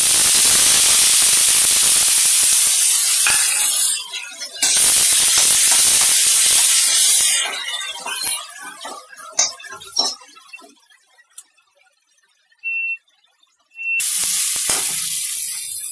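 Onion paste frying in a pan for dum aloo, a loud hissing spray of sizzling that cuts out, gives way to scattered clinks and scrapes of utensils, then surges back.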